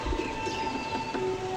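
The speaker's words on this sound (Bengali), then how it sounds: "খুব মারাত্মক পায়রা" Teddy pigeons cooing in a loft, soft low repeated coos close by over a steady background hum, no voices.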